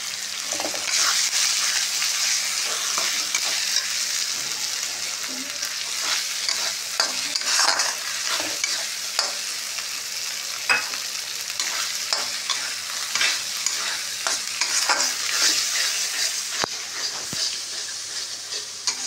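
Masala sautéing in a pan with raisins, peas and chopped green chili for stuffed capsicum, a continuous close sizzle with frequent scraping stirs of the spatula, steady and loud throughout with no talking.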